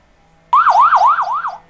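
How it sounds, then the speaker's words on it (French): Man-down alarm on a Retevis Aliunce H1 two-way radio set off by a fall, a loud close electronic siren warbling up and down in rapid repeated sweeps that begins suddenly after a short quiet stretch. "Vous chutez, votre radio se retrouve comme ceci. Automatiquement, il va déclencher l'alarme."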